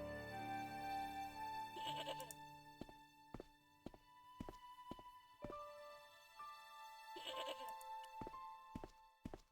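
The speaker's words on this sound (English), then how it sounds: "That goat is nightmare fuel." A goat bleats repeatedly in a farm video game, its wavering cries rising loud at the start and again near the end, with thudding footsteps and soft knocks scattered between them.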